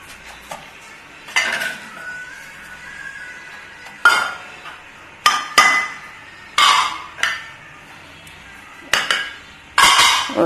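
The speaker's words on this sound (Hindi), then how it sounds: "इसको मैं ये कुंडी डंडे में डाल के अच्छे से इसका पेस्ट बना लूँगी" Cumin and spices being pounded into a paste in a stone mortar and pestle, with repeated sharp knocking bursts in irregular clusters, close and fairly loud with no talking.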